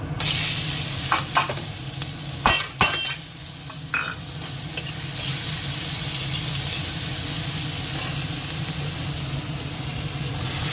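Spices and cumin are lightly frying in a pan, giving a steady close sizzle with a few sharp clinks and scrapes of stirring early on, then settling into continuous frying hiss without any talk.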